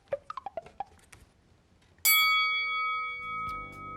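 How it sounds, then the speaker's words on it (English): Bell ding on a quiz show, a single bright ringing strike that sustains and slowly decays after a few soft preceding clicks, with a low tone joining near the end. "ding goes the bell"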